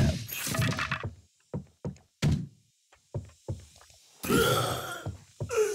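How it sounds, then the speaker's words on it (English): A zombie smashes a couch in the game Dead Block, a series of dull, heavy thunks and knocks at irregular intervals, with louder crashing bursts at the start and near the end, loud and close. "Come on in, Mr. Zombie. Destroying the couch."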